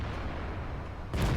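A tank gun firing in World of Tanks, one booming shot landing at the end after a stretch of low rumbling battle ambience.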